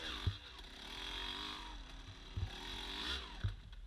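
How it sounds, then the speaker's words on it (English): Low, chugging engine of a Yamaha YZ250 two-stroke dirt bike lugging at very low RPM during an off-road hare scramble, with a steady rumble and a few sharp bumps as it struggles near stalling. "So listen to the bike here. Really lugging it. Really low RPMs."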